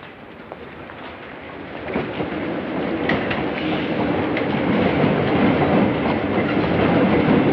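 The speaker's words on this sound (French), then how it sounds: "Pas de Paris sans métro." A Paris metro train runs steadily and loudly, a continuous rumbling roar with rhythmic clatter of wheels on rails that swells slightly after the first two seconds and holds for the rest.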